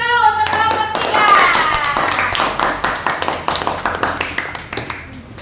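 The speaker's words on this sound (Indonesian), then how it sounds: "Ibu Guru minta semuanya tepuk tangan dulu untuk kelompok 3." A classroom group claps for a presenting team in a quick run of sharp, close hand claps that rise and then thin out, with a teacher's voice heard briefly at the start.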